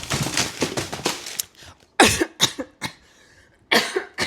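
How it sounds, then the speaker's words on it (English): Indoors during a spinning-wheel book challenge, a person coughs in several harsh, abrupt bursts. A dense cluster comes first, then separate coughs after short quiet gaps, close and loud. "I'm coughing randomly now"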